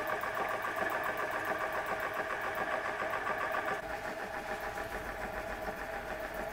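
A Huxtable Stirling hot air engine runs smoothly at low gas, giving a faint, steady rapid mechanical ticking and whirring like a small sewing machine, with a slight change in tone partway through.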